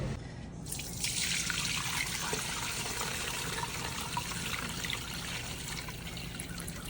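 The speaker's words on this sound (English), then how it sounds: "Just keep on boiling it until it's falling apart." Leftover rotisserie chicken boils in a pot of water for soup, a steady hissing, bubbling wash of liquid that swells after a brief quieter start and continues evenly.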